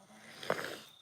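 A child snoring softly close by, one brief nasal rasp over a quiet indoor room.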